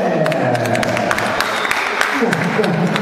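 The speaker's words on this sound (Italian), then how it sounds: "Un applauso per Joker." Guests at a party hall in Foggia clap for a performer dressed as the Joker, giving dense, even applause over about three seconds while a voice talks underneath.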